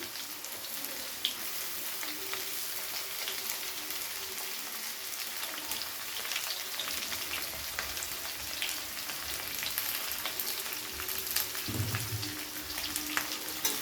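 Onions and potatoes fry in a pan over a high gas flame, giving a steady, dense sizzle and crackle that runs unbroken throughout, with occasional louder spits and stirring scrapes.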